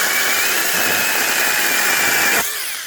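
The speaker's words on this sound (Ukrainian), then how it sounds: "200 модель ріже дуба." A model 200 chainsaw cutting through oak, a loud, steady high-revving engine whine close by that drops off sharply near the end as the cut finishes, no speech.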